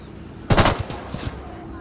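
A short burst of automatic gunfire in Ghost Recon Wildlands opens loud and then trails off into a few quieter shots over a steady background.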